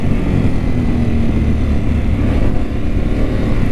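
A Harley-Davidson Pan America motorcycle pulls hard under acceleration, a loud, steady engine roar mixed with rushing wind noise throughout, with no voices.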